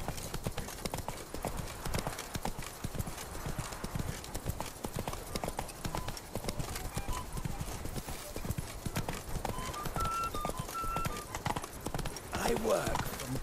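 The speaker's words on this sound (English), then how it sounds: "Even a horse drops if you ride it at a constant gallop." A horse gallops in The Witcher 3, its hoofbeats a steady, rapid clip-clop running throughout, layered with game ambience and occasional speech.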